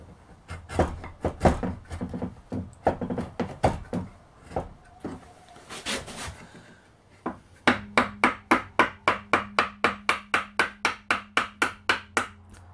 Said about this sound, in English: This dimension of the tenon could either be sawn or split like this.